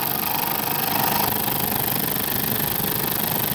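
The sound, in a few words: scroll saw cutting bottom of pine board flat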